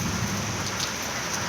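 Rain falls steadily in a dense, continuous hiss of drops on surfaces, loud and close, with no voices.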